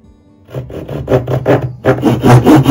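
Rhythmic rasping strokes of a dovetail saw cutting wood joints, close up, starting after a short quiet moment and continuing steadily back and forth.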